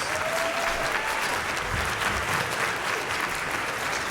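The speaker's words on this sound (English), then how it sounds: "Give him a round of applause." An audience at a high school orchestra spring concert breaks into sustained applause, a dense steady wash of clapping throughout with no pauses.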